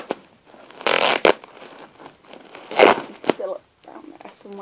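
Packing tape ripped off a cardboard box in two loud, rasping bursts with a sharp snap between, amid rustling and crinkling, with voices talking softly in between.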